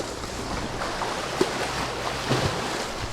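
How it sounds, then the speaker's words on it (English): Ocean waves wash against an island shore in a steady, even surf with soft swells rising and falling, no voices present. "No, they're real waves."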